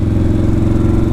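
Close, loud engine roar of a Yamaha Warrior 1700 motorcycle as the throttle is blipped, a steady thumping low rumble without a break.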